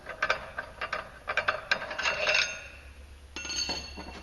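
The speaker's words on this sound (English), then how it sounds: "So just unthread your clutch puller." A clutch puller is unthreaded from a Polaris RZR clutch during a clutch kit install, giving close, rhythmic metallic ratcheting clicks in quick bursts, then a rougher grinding turn. Nobody talks.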